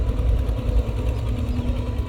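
Caterpillar 320GX excavator with a Perkins four-cylinder, four-stroke turbo engine of 4,400 cc, idling with a steady low rumble that runs close and continuous on its own.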